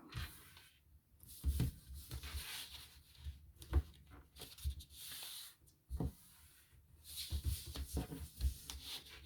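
Sheet of paper folded and creased by hand while making an envelope, with soft rubbing and sliding strokes punctuated by a few crisp thumps, close and fairly quiet, no talking.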